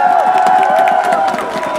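Baseball stadium crowd at a Nexen versus LG game cheering and clapping, a loud, dense roar with a sustained tone running through it and no clear speech.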